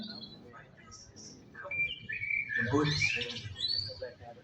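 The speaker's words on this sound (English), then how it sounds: "The bird was not far from the boat, trailing it while chirping a tune." A bird chirps a short whistled tune near a boat, bright trills and rising notes close by, with soft background noise and no talk.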